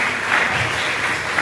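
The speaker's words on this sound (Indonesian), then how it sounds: "Kita beri tepuk tangan yang meriah kepada Bapak Ida Bagus Divya SE" A brief, steady wash of applause from a school audience at a talk show in a Denpasar high school, welcoming a guest. The dense clapping fills the whole moment evenly, with no gaps.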